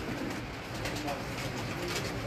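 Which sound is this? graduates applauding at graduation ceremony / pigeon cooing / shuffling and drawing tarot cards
pigeon cooing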